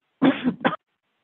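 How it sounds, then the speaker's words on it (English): Two quick, harsh coughs close to the mic, the first longer and rasping, the second short, then silence. "I was talking too much and got my throat dry and started coughing here."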